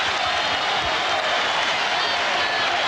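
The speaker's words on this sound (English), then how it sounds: "listen to the New York crowd cheer their team" Crowd at a 1999 NBA Finals basketball game in New York cheering the Knicks against the Spurs, a dense continuous roar of voices and applause, loud and steady throughout.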